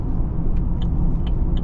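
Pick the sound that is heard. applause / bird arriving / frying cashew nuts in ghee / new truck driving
new truck driving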